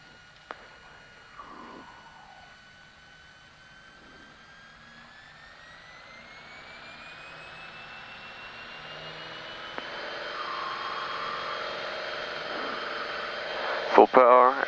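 A small piston airplane engine with the mixture full rich and flaps up, run to full power for a VFR takeoff. It makes a loud, steady drone whose pitch climbs and builds as the plane accelerates, ending in a few sharp knocks.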